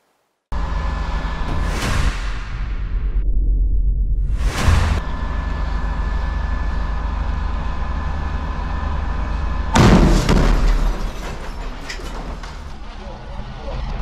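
Tank explosions in war footage from the Israel-Hamas war: three loud, sharp blasts a few seconds apart over a steady rumbling background, with voices around them.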